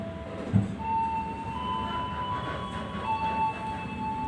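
Tegal Bahari passenger train pulling out of Jatibarang station, a steady low rumble of railcars with faint high wheel squeal and tonal hums running throughout.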